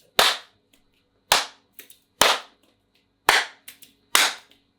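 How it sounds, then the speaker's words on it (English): Crisp hand claps and finger snaps ring out close and loud, about five strong sharp hits with a few softer snaps between them, spaced roughly a second apart with no talking. "Snap, snap, clap. Snap, clap."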